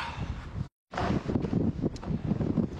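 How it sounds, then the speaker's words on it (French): Wind buffets the microphone high on a mountain in Gaspésie, with loud, gusty rumbling that cuts out briefly before resuming in uneven bursts, heard alone without talk. "Toujours venteux un peu la Gaspésie"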